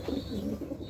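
Pigeons give a soft, low, throaty coo in a brief burst, close by, with no talk over it.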